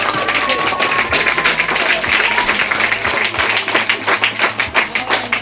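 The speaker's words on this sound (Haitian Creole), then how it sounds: "Applaudis." An audience claps at the opening of a free school in Jacmel, Haiti: steady, loud, sustained applause with dense overlapping claps, a few sharper individual hits, and some crowd voices mixed underneath.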